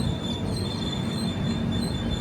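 The Kirandul Passenger train rolls into Marripalem station with a steady rumbling roar and a thin high wheel squeal running throughout, moderately near, without talk.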